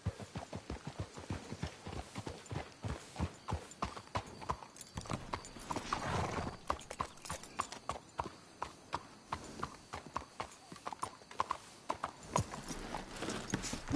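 Steady clip-clop of horse hooves on hard ground in the video game Red Dead Redemption 2, a brisk rhythmic trot throughout, with creaks and a faint snort mixed in.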